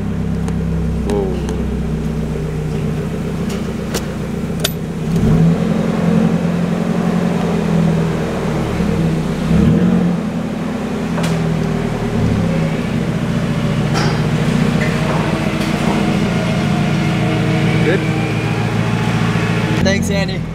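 Nissan 240SX running with blast pipes exhaust, a loud, close, rough engine drone lasting throughout with small swells of revving, while people talk over it.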